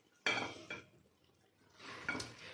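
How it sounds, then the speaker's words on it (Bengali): Chicken kosha, a dry Bengali chicken curry cooked without water, is served from the pot into a bowl, with two short bursts of metal spoon scraping and clinking against cookware separated by a quieter pause. "এই বাটিতে কিন্তু হালকা করে ঢেলে দেবো আমি"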